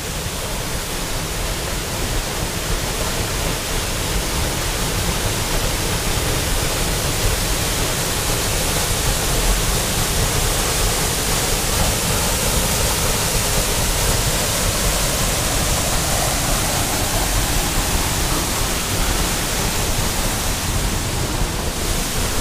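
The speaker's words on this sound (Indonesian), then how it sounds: "alhamdulillah nyampe di air terjun Tanjung Asap" The Tanjung Asap waterfall in Palakka village roars steadily and loudly, a dense unbroken rush of falling water that fills the whole scene with no pauses.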